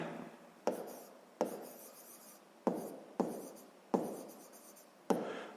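A pen writes on paper during a sixth-grade math exercise, its rasping scratching strokes coming close and clear in seven short bursts, each starting sharply and trailing off, with no talking.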